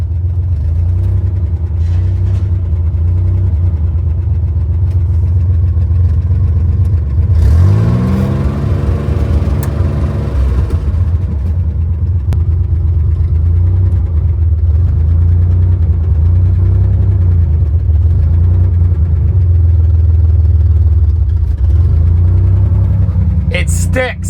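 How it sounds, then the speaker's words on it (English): A Chevrolet Corvair engine with a sticking throttle idles loudly and steadily, then revs up sharply once, holds high, and settles back to a rough idle while a voice talks over it. "It sticks, so I'm trying to not let it rev to the moon."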